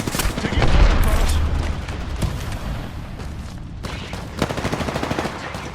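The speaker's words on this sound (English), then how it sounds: "Taking fire, brothers." Gunfire in the battle royale shooter Apex Legends: a heavy, booming burst near the start, then scattered shots and short rattling volleys at a moderate distance.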